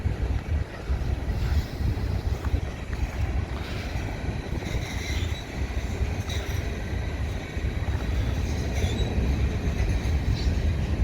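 A freight train rumbles past on a main line in Minneapolis at a steady roar, with low heavy rumble, rail noise and gusts of wind across the microphone throughout.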